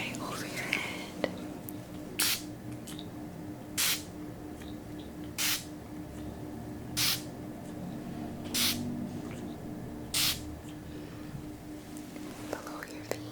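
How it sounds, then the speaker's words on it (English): Soft spray bursts hiss over the listener's head during a quiet ASMR-style Reiki session, six short evenly spaced puffs about every one and a half seconds against a faint hushed background, with whispered speech. "allow yourself to be comfortable in this space as I spray over your head"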